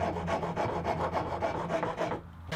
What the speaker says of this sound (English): A few minutes with a rasp will smooth out all these corners and make everything come together.